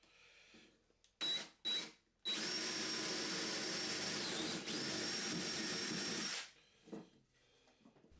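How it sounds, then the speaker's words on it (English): A power drill bores 3/8-inch holes into the wood of a Christmas sled, with two short trigger bursts followed by a long, steady whine of several seconds as the bit cuts through, then quiet handling noises. "on both sides I'm drilling 3 8-inch holes about an inch from the corners"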